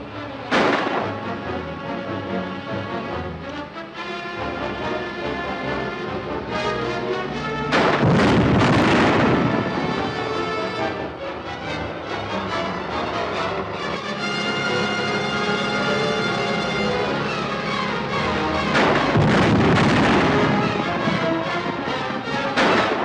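Grenade explosions in a 1950 film come as loud, heavy booms over a continuous roar of battle noise, with two especially big blasts standing out among repeated bursts.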